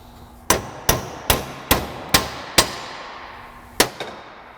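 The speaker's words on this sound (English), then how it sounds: "I'm just going to take it over to my vise and just flatten it out." Hammer blows on a Mazda 626 front lower control arm part clamped in a vise, seven sharp metallic strikes at a steady pace with a short pause before the last two, loud and close with no talk.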